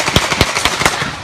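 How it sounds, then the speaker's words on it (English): A rapid burst of gunshots rings out in Milwaukee streets during a riot, sharp cracks in an uneven volley of about six reports over a second, loud and echoing. "People panic, running for cover in the smoke-filled streets as the sound of gunshots ring out."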